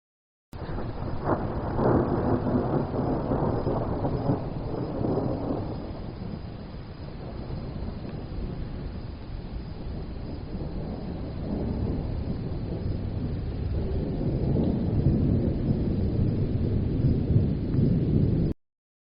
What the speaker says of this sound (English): The rain hisses, and Aaron walks into the storm.